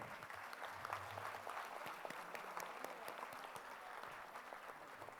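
An audience at a school's senior annual day applauds a group of children with a faint, distant wash of clapping, where a few sharper individual claps stand out.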